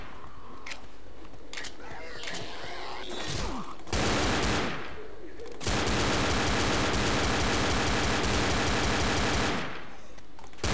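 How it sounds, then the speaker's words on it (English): Rapid automatic machine gun fire in Left 4 Dead rattles in long, loud continuous bursts, the longest lasting several seconds, with quieter game sounds and faint voices between. "I just machine gun them down"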